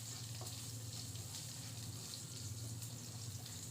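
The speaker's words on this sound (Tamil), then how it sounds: "எண்ணெய் நல்லா சூடாகி வர்ற இந்த டைமில் நறுக்கி எடுத்து வச்சுருந்த வெங்காயத்தை இதோட சேர்த்துட்றேன்" Chopped onions fry in hot oil with a steady, dense sizzle and crackle close up, with occasional spatters. Nobody speaks.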